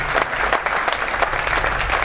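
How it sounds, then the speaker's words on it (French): Church congregation clapping together, a dense, steady round of applause from many hands that carries on throughout the short moment, fairly near and with no voices over it. "Acclamons le Seigneur."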